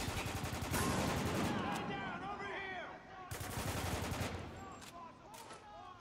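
Gunfire from the video game Spec Ops: The Line, rapid bursts of automatic shots in two clusters with a brief lull between, under a player's voice.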